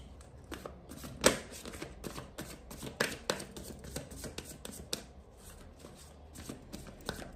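A tarot card deck being shuffled: quiet, rapid papery riffles and clicks of cards in an irregular rhythm, close and soft, with no talking over them.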